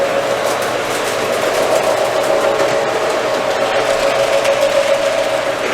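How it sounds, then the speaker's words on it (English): An HO gauge model trolley circles a layout, giving a steady, even mechanical whir with a faint electric hum running through it. The sound stays continuous and moderately close throughout, with no voices. "Got the trolley going around right up top here."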